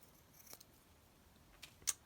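Scissors trimming a piece of lace give a few faint, sharp snips at close range, spaced out in a quiet room with no voices.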